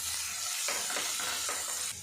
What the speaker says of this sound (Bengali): পেঁয়াজটা আমি ভাজা ভাজা করে নেব।